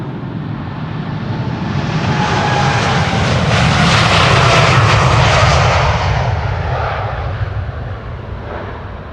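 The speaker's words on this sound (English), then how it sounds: "that second KLM 747 is departing a little bit too early" A KLM Boeing 747 departs Amsterdam Schiphol Airport, its jet engines swelling into a loud, roaring rumble as it passes nearest midway, then slowly fading away; no voices.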